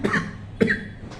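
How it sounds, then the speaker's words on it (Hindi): Two short, rough coughs in quick succession, close and fairly quiet, followed by a faint third one. "खांसी हो रही है"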